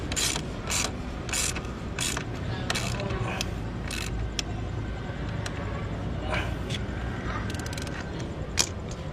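Bolts being tightened on a Honda Click V4 scooter's new exhaust pipe, giving repeated short ratcheting clicks in quick bursts over a steady low background hum, close by.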